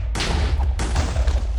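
Two loud, close explosions from the Minecraft video game, each a sudden boom followed by a rumbling decay, the second arriving just under a second after the first.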